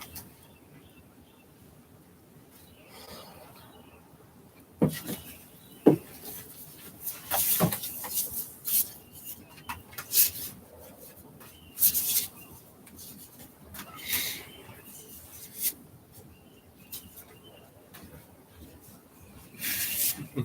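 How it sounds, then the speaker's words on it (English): A deck of tarot cards is shuffled by hand in irregular bursts of papery riffling and rubbing, close and fairly quiet, starting after a few seconds of near silence. "He's gonna do some shuffling."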